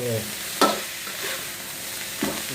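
Wild boar with herbs being stir-fried in a pan gives a loud, close sizzle with sharp bursts as the food is tossed and stirred.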